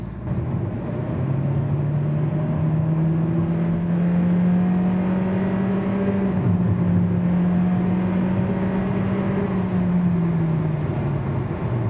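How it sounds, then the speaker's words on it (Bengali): A 2022 Honda Stepwgn Spada non-hybrid MPV with a 1500cc turbo engine and CVT gearbox accelerates, heard from inside as a steady, droning engine hum that rises smoothly in pitch and holds, with no talking. "এক্সেলারেশন একটু দিয়ে দেখি।"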